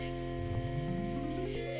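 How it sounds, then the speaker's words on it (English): Steady, rapid cricket chirping fills the background of a scene in the video game I Have No Mouth And I Must Scream, a dense insect chorus running unbroken alongside low music tones. "Some rigorous crickets."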